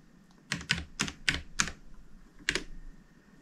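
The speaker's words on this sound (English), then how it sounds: "All right, let's type it in." A Wi-Fi password is typed on a computer keyboard in six distinct, crisp keystrokes. The keys come in a quick run and then one last press after a short pause, with no talking.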